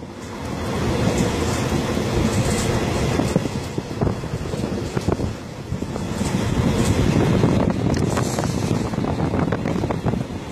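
Train travelling through heavy cyclone rain in Namibia between Gibeon and Mariental, a dense, loud roar of rain and rushing wind with rumbling motion noise, continuous and without talking.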